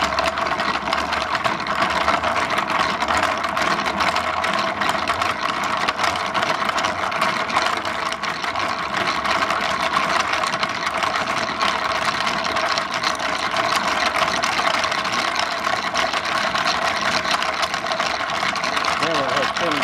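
A coffee grinder's flywheel spins up toward 400 RPM, giving a steady, continuous mechanical drone with a low hum that stays even and loud throughout.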